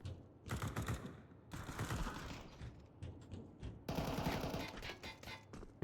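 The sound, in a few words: gunfire in video game Counter-Strike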